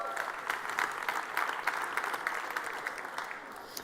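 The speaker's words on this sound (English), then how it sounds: "let's give it a warm applause for the first team" Audience clapping for a startup team at a pitching competition final, a steady, fairly loud wave of applause with no speech over it.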